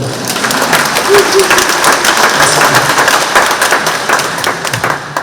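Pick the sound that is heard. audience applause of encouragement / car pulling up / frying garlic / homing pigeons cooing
audience applause of encouragement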